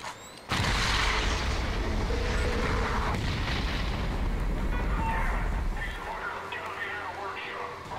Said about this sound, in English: Round two of the fireworks.